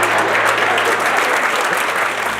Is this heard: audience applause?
yes